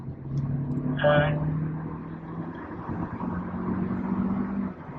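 A Hyundai Verna Turbo with the 1.5 turbo engine revving hard in third gear on a drive, a steady droning engine note building under cabin noise, with a brief tonal chirp early on.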